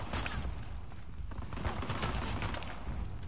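Rapid gunfire in the action game Uncharted: The Lost Legacy, dense bursts of shots running continuously at moderate loudness with no talking.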